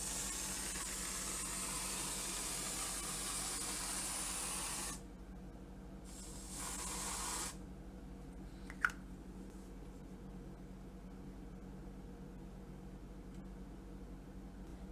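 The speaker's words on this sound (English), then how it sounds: "Now I'm going to put some whipped topping up there, on there. I'm going to spray some" Whipped topping sprays from an aerosol can onto a homemade pumpkin cheesecake: a long steady hiss, then a short second burst, followed by quiet with a single small click.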